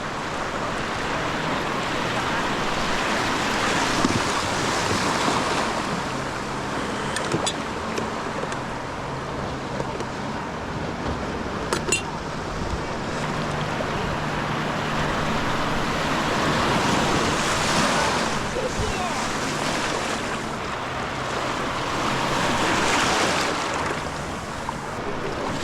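Wind and ocean swell rolling onto a rocky coastline on the Perth shore during abalone fishing, a steady roar of surf with periodic surges and microphone buffeting, no talk.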